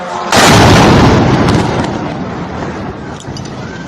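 A US military strike in Iran sets off a sudden heavy blast that booms loudly and rolls away into a long fading rumble, followed by a few fainter distant thuds and crackles.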